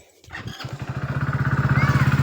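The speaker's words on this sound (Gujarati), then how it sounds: "પાછું દેવો બાઇક ચાલુ કરીને એટલે આવ્યો" Motorcycle engine catching after a brief sputter, then settling into a loud, close, rhythmic idle thump that grows steadily stronger.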